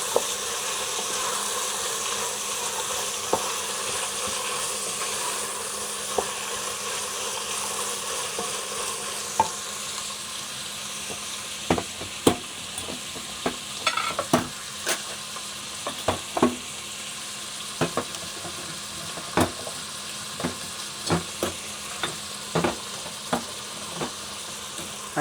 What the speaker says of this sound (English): let's fry our veggies.